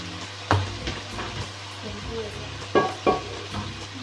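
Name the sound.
chicken sizzling while being fried for maash daal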